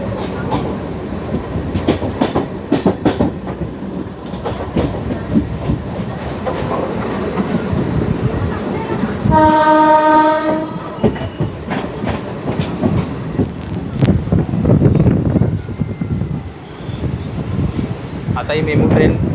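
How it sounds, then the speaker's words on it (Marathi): A MEMU local train runs on a curve near the outer approach to Diva station on the Vasai–Diva line, with steady loud rumble and rail clatter throughout and a brief horn-like tonal burst midway; a voice talks over it. "आता ही मेमू ट्रेन दिवा स्टेशनच्या आउटरवर आहे"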